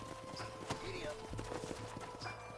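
Steady clip-clop of horse hooves on a hard surface in the video game Red Dead Redemption, fairly quiet, with voices and background sound underneath.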